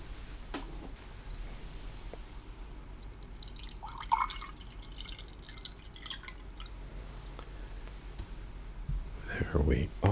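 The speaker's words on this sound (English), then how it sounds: "let me get you some water" Water is poured into a glass during an in-flight meal service on a London to Hong Kong flight, with soft drips and a short splash of filling near the end, set against steady cabin hum and quiet speech.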